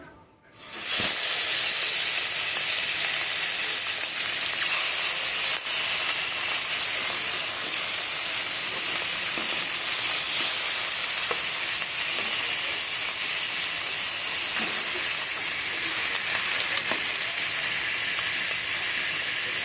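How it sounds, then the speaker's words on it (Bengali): Mirik fish fry in hot mustard oil in a wok, giving a loud, continuous hiss and sizzle that holds steady from start to finish, close by, with no talking. "মাছগুলো আমি লাল লাল করে ভেজে নেব।"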